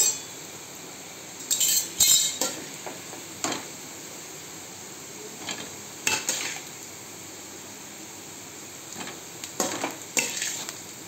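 Food fries in a pan under a constant sizzle while a spoon stirs and clinks against the metal in irregular bursts, close by and without any speech.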